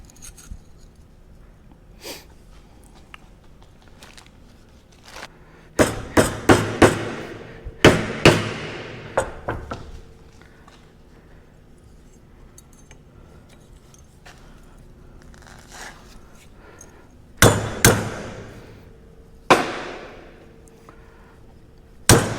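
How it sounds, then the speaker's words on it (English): Metal hammer strikes drive a pin into the spring assembly of a Caterpillar 236 skid steer, sharp loud clanks landing in clusters of several quick blows, separated by quiet pauses. "Let's see if we can drive this pin in there."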